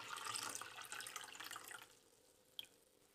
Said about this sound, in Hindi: और अब इसका पानी हम निकाल देंगे